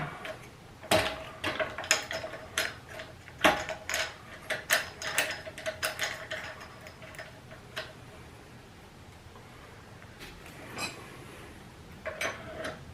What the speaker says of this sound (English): So we'll start tightening up the pinch bolt.